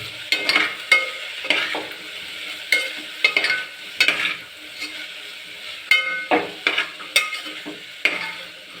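Vegetables for rice pulao sizzle and fry in a pan, with regular scraping strokes of a spoon stirring them at a steady rhythm, close and clear, with no talking.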